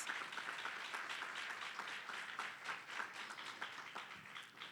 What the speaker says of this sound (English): Can we give Homestead another round of applause?